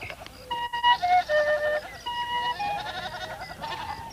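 Goats bleat in repeated overlapping cries as a herd is let out to feed, loud and close, with a high pipe-like whistle sounding among them.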